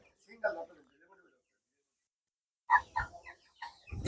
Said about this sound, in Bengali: এই যে আমার ভাগ্নে হাসান মুরগি ধরতেছে